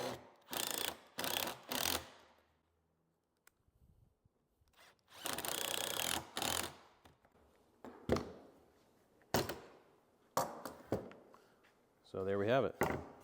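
A Kreg 720 Pro pocket hole jig clamps down and drills, with several close, loud bursts of a power drill driving a long screw, separated by short pauses and faint handling clicks.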